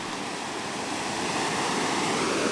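Steady broadband surf of ocean waves washing onto a shore, a continuous rushing wash that holds even and loud from start to finish with no voices.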